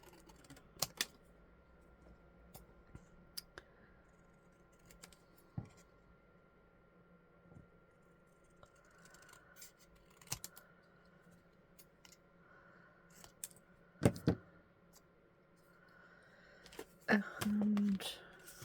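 Scissors snip intermittently to cut out a stamped card image, giving quiet irregular clicks and cuts with rustling paper and a brief louder handling noise near the end.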